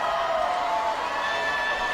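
Crowd cheering for gymnast Sarah Finnegan from Lee's Summit, Missouri, at the 2017 NCAA women's gymnastics championship final, a continuous dense roar of an arena audience with a sustained tone under it.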